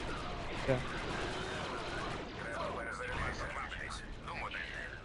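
Enemy fire aimed at the player's squad aboard a giant ship in the shooter Star Wars: Republic Commando, with scattered gunshots and crackling bursts through a noisy battle bed, mostly under someone talking.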